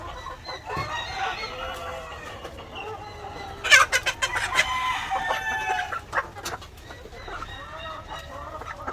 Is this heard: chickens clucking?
yes